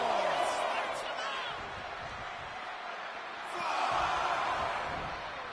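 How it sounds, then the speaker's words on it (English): A crowd in a 2K wrestling video game cheers and roars continuously, swelling louder toward the end, under an excited commentator's voice. "He's pumped up, and so is this crowd."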